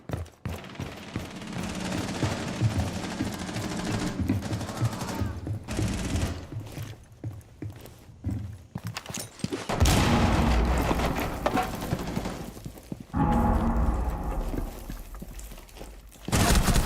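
Repeated loud shotgun blasts in an online shooter game, heavy booming reports breaking out in bursts amid dense gunfire and game noise across the whole stretch.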